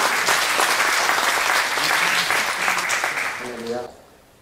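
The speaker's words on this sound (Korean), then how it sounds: "우리 감사와 영광 박수로 올려드립니다" Church congregation clapping together in a dense, steady burst of applause that fills the room, then fades out near the end as a voice begins speaking.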